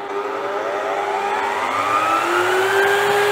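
A Mollar WL550 wood lathe running up to its top speed near 3000 rpm, giving a continuous close motor whine that climbs steadily in pitch over a few seconds, alone without voices.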